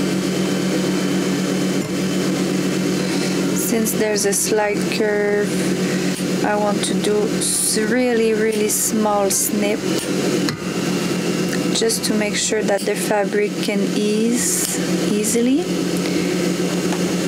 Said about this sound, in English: you can hear my industrial machine.